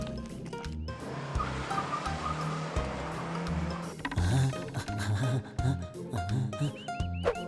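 Rally cars start a race on a Himalayan mountain course. Engines rumble and rise in pitch, with a gravelly surf-like wash. Sharp clattering hits crowd the second half, and there is no talk.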